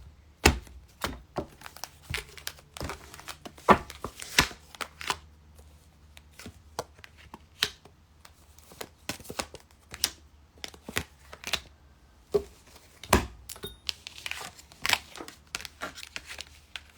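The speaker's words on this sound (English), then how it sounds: "Cut the deck." A deck of cards being cut and shuffled for a reading, with sharp, irregular riffles, taps and slaps in uneven bursts, close by over a low hum, and no speech.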